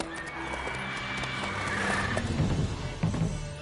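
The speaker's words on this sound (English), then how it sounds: "Whoa there, Roach." Roach, a horse in the video game The Witcher 3, lets out a loud whinny over a steady outdoor ambience, followed by a few soft hoof clops near the end.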